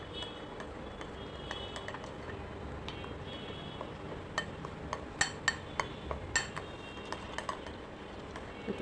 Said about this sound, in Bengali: চামচ দিয়ে আস্তে আস্তে সুন্দর করে বেটারটা গুলে নেব।